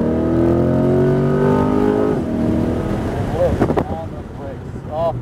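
Corvette C8 Z51 accelerating on the Putnam Park race track, its engine note climbing steadily in pitch under cabin noise while an instructor talks.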